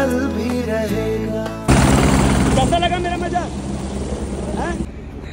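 A Chinook helicopter flies on a trip to Kedarnath, its heavy rotor thump and engine drone loud and continuous, jumping louder partway through, with people talking and some music-like tones over it.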